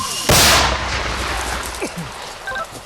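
A single loud, booming mortar shot bursts out early on the front line near Robotyne, Ukraine, then decays into a rumbling echo with faint background noise.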